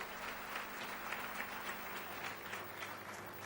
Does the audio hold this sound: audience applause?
yes